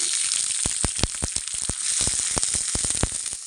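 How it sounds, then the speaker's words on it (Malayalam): Turkey berries crackle and pop in a hot pan over a steady sizzle, with sharp bursts coming irregularly every fraction of a second. "ചട്ടി ചൂടാ നമ്മൾ അതിലേക്ക് ചുണ്ടക്ക ഇടുക"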